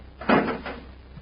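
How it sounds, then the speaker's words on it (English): A single hollow shutting clunk with a brief rattling tail, close and dry, played as a radio-drama sound effect for the door of a small spaceship. "Shut the door and shove off."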